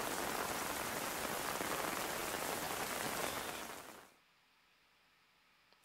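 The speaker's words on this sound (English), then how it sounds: "It's tropical, so there's probably so much rain." Heavy tropical rain from the war drama The Pacific pours as a dense, steady hiss, then cuts off sharply after about four seconds into near silence.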